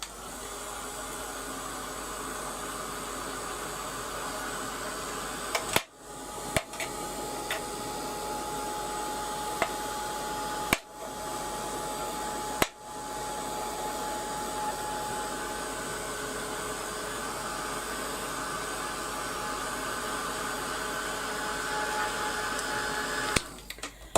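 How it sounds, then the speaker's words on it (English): Heat gun blowing on a mixed media altered paint brush, a steady airy roar with a faint whine that runs close and unbroken. A few brief dips and clicks come where it is moved or switched, with no talk. "I think before I go any further I might just give it a waft with the heat gun."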